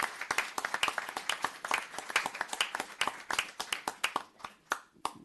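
A town board meeting audience claps steadily, dense overlapping hand claps that begin strong and thin out toward the end.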